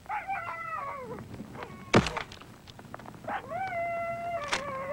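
A sled dog in an Arctic camp whines and then barks hysterically at a polar bear that has wandered in. Wavering, rising whines sit on either side of a sharp, loud bark burst, moderately close, with no voices.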